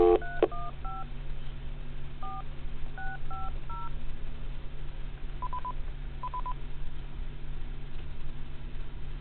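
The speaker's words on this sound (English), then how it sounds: "It's not going. Let's dial it again." Touch-tone telephone keypad dialing, a quick run of distinct DTMF beeps followed by two longer paired tones, heard over a steady low hum on the line.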